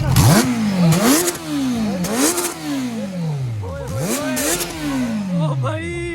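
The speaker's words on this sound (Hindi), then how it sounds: "अभी कपड़ा लगा के एग्जॉस्ट लग रहा है। अभी आवाज़ चेक करो इसकी।" A Kawasaki Z900 motorcycle with a new aftermarket exhaust revs repeatedly, each throttle blip rising to a sharp roar then falling back, about five close, loud revs in a row.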